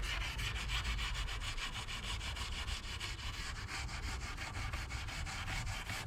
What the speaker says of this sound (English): we're just going to clean up this edge with a bit of wire wool